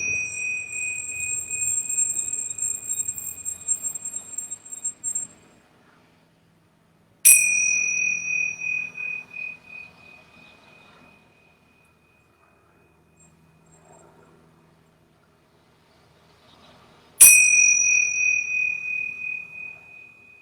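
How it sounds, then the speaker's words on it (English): Yoga bells struck three times at the close of a class, each a bright ringing strike that sustains and slowly fades, with near-silent gaps between strikes in a quiet room. "I'm going to ring these bells 3 times for us here in the room."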